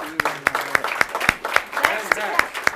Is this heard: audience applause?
yes